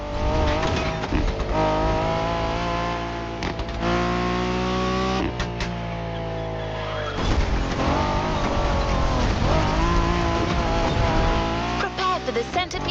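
A Ford Mustang Boss 429 in the racing game The Crew Motorfest roars loudly and continuously, revving up and shifting through gears with rising engine tones, a voice speaking faintly beneath.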